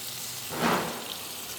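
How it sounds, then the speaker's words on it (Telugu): Tamarind pulp poured into a pan of sizzling chilli masala for an aubergine and tomato fish gravy curry, a single swelling burst of frying sizzle rising then settling back to a steady low crackle. "చింతపండు గుజ్జు యాడ్ చేసుకుందాం"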